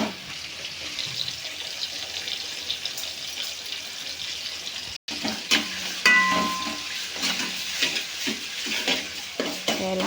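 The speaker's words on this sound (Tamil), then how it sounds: "தக்காளியை சேர்த்து நல்லா வதக்கிடுங்க." Tomatoes sizzle and fry in a pan for radish sambar while a spoon stirs them with scraping clinks, close and steady, with a brief cut partway through and no talking.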